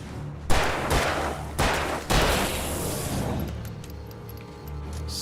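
Gunfire in the horror action game Alan Wake: three loud, distinct shots a second or so apart, each with a booming tail. The last fades into quieter ambience with faint metallic clicks.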